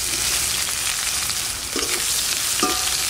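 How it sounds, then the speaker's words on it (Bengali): Bay leaf, cumin and chopped onion fry in hot oil with a steady, loud hiss, and a utensil stirs the pan now and then with a couple of light scrapes. "ফোড়নের জন্য তেজপাতা, জিরে আর পেঁয়াজটা যে কুচিয়ে রেখে দিয়েছিলাম এটা দিয়ে দিচ্ছি।"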